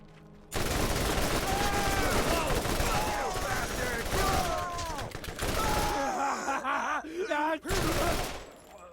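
Submachine gun fire in Borderlands 1, with sustained loud bursts of rapid shots that pause briefly near the six- and eight-second marks, mixed with game effects and character voices.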